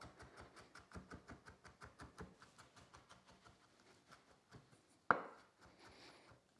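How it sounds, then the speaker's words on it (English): A knife mincing garlic on a cutting board in quick, even taps close by, about four per second, then a sharper knock near the end before slower scraping. "you're just mincing this garlic to the level of whatever dish you're making"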